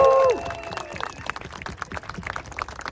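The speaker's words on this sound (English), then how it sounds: "Let's give a big round of applause." Crowd at a political rally in Jackson Heights, New York City, breaking into applause and cheering after a brief loud tone, a dense patter of clapping with scattered whoops that stays steady and moderately loud.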